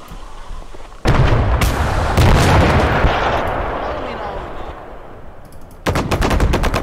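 Heavy artillery blasts and gunfire rumble in a Gates of Hell battle on the Finnish front, a loud sustained roar of explosions with sharp bursts near the start and the end.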